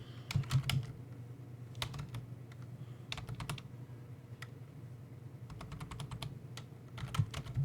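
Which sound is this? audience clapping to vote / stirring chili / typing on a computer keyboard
typing on a computer keyboard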